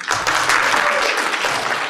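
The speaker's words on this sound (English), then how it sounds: "we need to give her another round of applause" An audience at the Namibian Business Hall of Fame laureate induction ceremony gives a round of applause, a dense, steady wash of many hands clapping together that holds strong for the whole stretch, with no voices over it.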